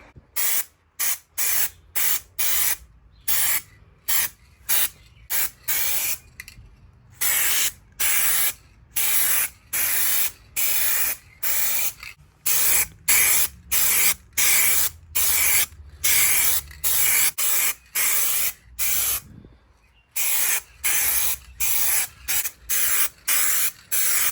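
Aerosol spray paint hissing onto the hatch of a Nissan 300ZX in repeated short, even bursts, each about a second long with brief gaps between them, steady and close throughout.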